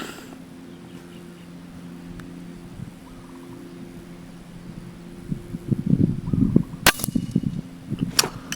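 Hunting gunshots ring out in a quiet outdoor setting over a low engine-like hum: a faint spell first, then a cluster of clattering sounds and two sharp, loud cracks near the end.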